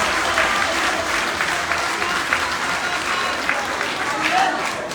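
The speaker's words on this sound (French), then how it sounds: "de demander de le féliciter et l'applaudir." An audience at a Dakar mayor's press conference applauds in honour of the honorary mayor, a steady wash of clapping throughout, with some voices mixed in.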